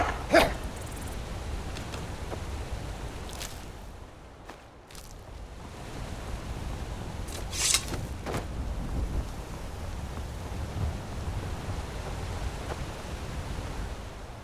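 A dog barks in the Skyrim video game while a player roams, a few sharp barks standing out over steady rain-like ambient noise and a low rumbling background, with no talk.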